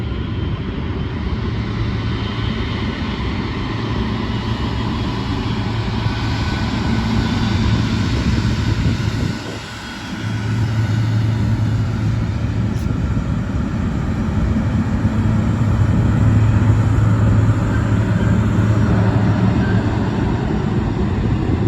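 A KLM Boeing 777-200 airliner roars steadily at close range at Las Vegas, a broad, loud jet rumble with a brief dip midway before the thrust swells again.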